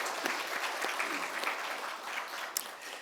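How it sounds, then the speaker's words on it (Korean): Congregation at a Sunday worship service bursts into sustained applause, a dense steady clatter of many hands held at an even level for three seconds, with a faint voice briefly under it. "크게 영광의 박수 돌리겠습니다"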